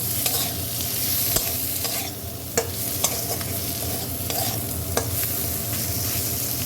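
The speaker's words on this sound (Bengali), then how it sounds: "ভাজাটা আমার হয়ে গেছে, এখন আমি টমেটো কুচিগুলো দিয়ে দেবো।" Chopped tomatoes stirred into dried fish frying in oil, a constant loud sizzle with scattered scraping taps of a spoon against the pan, no talking.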